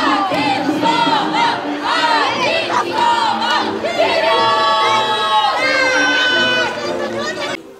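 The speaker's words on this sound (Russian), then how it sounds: "Болельщики скандируют в поддержку своих команд" Football tournament fans chanting and shouting together for their teams, a loud dense crowd roar with rhythmic rising calls and cheers, sustained throughout and tapering slightly at the end.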